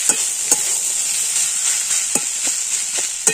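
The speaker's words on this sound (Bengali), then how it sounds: "এটাকে আমি ভালো করে কষিয়ে নেব।" A vegetable cutlet mixture with potato sautéing in a pan gives a loud steady sizzle and hiss, with a few soft stirring scrapes on top.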